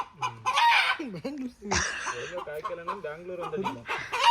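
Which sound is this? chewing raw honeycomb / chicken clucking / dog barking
chicken clucking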